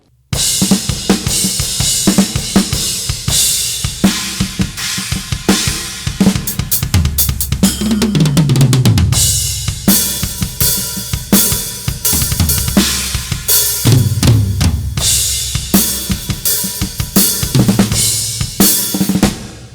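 A fast, dense death metal drum groove, with pounding double kicks, cymbal crashes and quick ghost notes on the snare, loud and continuous with no talking.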